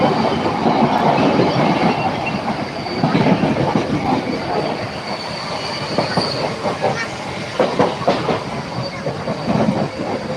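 A moving train rumbles loudly with a rhythmic clickety-clack of wheels over rail joints and occasional metallic squeals, continuous throughout.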